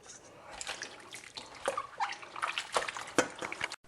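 Rinse water drains and drips from freshly rinsed cucumbers being prepared for sweet pickles, with a steady trickle and irregular splashes close by in a kitchen sink.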